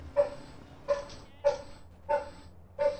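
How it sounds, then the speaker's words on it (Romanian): Dog barking in GTA San Andreas: five evenly spaced single barks, each a sharp yelp with a short tail, repeating roughly every 0.6 seconds at moderate loudness with no one talking over them. "Dar taci odată, câine tâmpit."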